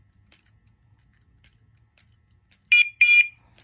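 Dogtra 2700T&B dog collar giving two short, loud electronic beeps near the end, with faint ticks and clicks before them in an otherwise quiet setting.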